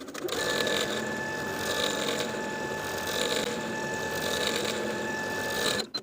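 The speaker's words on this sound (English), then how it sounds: "And then top stitch that narrow hem in place close to the upper inner fold all the way across." A sewing machine runs steadily, top stitching a narrow hem on a ruffled statement top, with a continuous mechanical whir and rapid needle clatter held evenly close by until it stops near the end.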